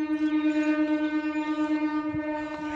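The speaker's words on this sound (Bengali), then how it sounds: "ট্রেনের আওয়াজও আছে, তার মানে খামারগাছি স্টেশন থেকেও খুব কাছে এটা" A train passes close by near Khamargachi station beside a bougainvillea nursery, its long horn sounding loud and steady throughout, with a pulsing rumble underneath and no talking.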